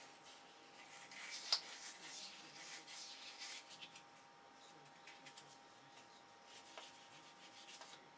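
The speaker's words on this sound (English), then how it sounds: "then I take the fine sandpaper" Fine sandpaper rubs softly against a model aircraft canopy in faint, close, uneven scratchy strokes that continue quietly throughout.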